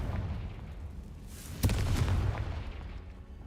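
A Confringo spell explosion in Hogwarts Legacy bursts as a single sharp blast midway, followed by a rumbling tail over low background game ambience.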